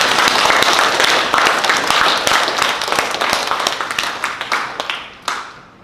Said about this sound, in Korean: 우리 다시 한번 우리 옆에 있는 어머님들을 위해서 한번 박수하도록 하겠습니다